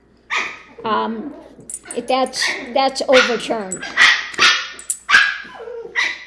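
Puppies barking, yipping and whimpering in a noisy squabble, loud and close, with a person talking over the commotion.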